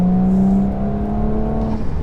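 Stage 1 Audi S4 engine accelerating from inside the car, a loud steady tonal drone that climbs briefly and then settles, with road and wind noise beneath and no talking.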